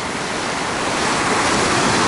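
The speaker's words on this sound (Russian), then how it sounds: "Вероника, он борется с волной" Sea waves on a beach in Thailand roll in as a loud, continuous surf rush that swells slightly toward the end, close, with no voices.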